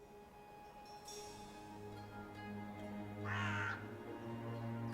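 A crow caws in the video game Dreamfall Chapters Book 3: Realms, two harsh calls near and clear above a low steady background drone.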